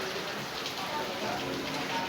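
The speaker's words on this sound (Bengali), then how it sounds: "দেখেন বাহিরে প্রচুর বৃষ্টি হচ্ছে।" Heavy rain pouring outside a home kitchen, a steady, even hiss of falling water that stays constant and moderately quiet throughout.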